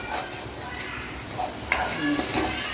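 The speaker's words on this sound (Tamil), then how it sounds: "அரைச்சதை தாளிக்கிறது." Steady sizzling of a ground spice paste frying in hot oil while tempering, with occasional stirring scrapes and clinks of a utensil against the pan.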